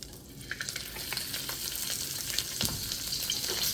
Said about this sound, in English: So let's stir fry it.